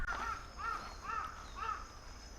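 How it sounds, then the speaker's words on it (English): Crows cawing in Hamarikyu Gardens, Tokyo, a series of four harsh, evenly spaced caws at moderate distance over a steady high insect-like drone. "The crows love making noise."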